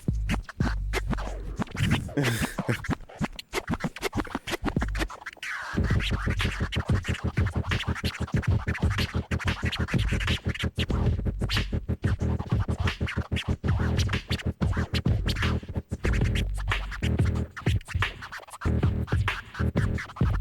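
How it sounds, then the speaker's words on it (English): Rapid, rhythmic turntable scratching over a steady beat, with quick back-and-forth record cuts running continuously throughout. "I need to be scratching on vinyl"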